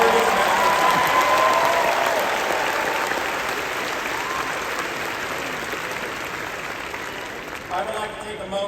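Loud, sustained applause from a large audience at a UCLA commencement ceremony, steady dense clapping that gradually eases in intensity, with faint cheers and voices scattered beneath.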